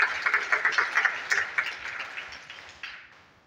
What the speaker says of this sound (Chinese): 我们要给个掌声给我们的公司